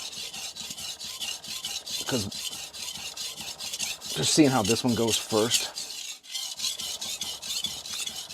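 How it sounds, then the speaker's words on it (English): Steady, rhythmic back-and-forth rasping of an R.H. Forschner Victorinox chef knife with a damaged edge stroked across a fast-cutting whetstone, close and continuous, while someone talks briefly over the scraping. "this is a great stone, and it's a fast cutting stone, but there's extensive damage on this edge"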